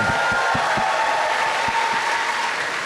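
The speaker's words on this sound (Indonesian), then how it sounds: "Baik, sekali lagi kita berikan aplaus untuk Alvin" A studio audience on an Indonesian talk show claps steadily for a guest. The applause is a dense, even patter throughout, with a few louder individual claps near the front and no speech over it.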